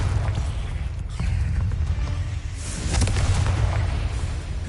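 Confringo spell blasts in the Hogwarts Legacy video game: a continuous loud, rumbling explosive roar with a short dip before swelling again in a second dense burst.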